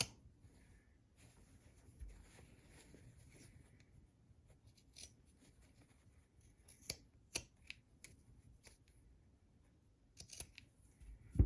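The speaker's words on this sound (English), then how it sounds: "I'm going to trim a little bit of this excess fabric. I'm using pinking shears" Pinking shears trim excess fabric from a sewn tote bag seam, producing quiet, sporadic snips and crisp cuts that grow sharper toward the end.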